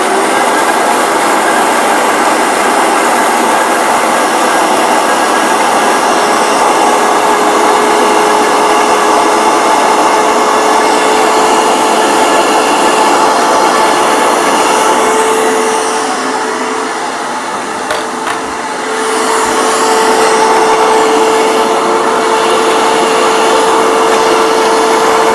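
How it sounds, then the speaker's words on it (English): Vitamix blender grinding mustard seeds into a creamy condiment, a loud, steady high-speed motor roar that runs continuously for about 25 seconds with a brief dip in pitch near the end. "you probably need a Vitamix for, just because you're busting up the seeds and you need it to be nice and creamy"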